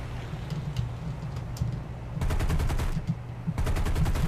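A bomber's forward gunner in War Thunder opens fire in rapid machine-gun bursts: scattered shots first, then two dense, sustained volleys that are loud and close, with no talking.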